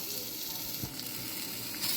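Green onion sizzling in a pan while beef udon with cabbage is being cooked, a steady close frying hiss with a brief stir or clatter midway and no talking.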